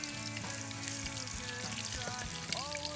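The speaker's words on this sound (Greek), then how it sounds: "Θέλει πρώτα να σοταριστεί το κουνέλι με το κρεμμυδάκι." Rabbit sautéing with onions in a pan for a home-cooked stifado stew gives a steady, close sizzle and crackle that runs unbroken throughout, with a low tonal hum underneath.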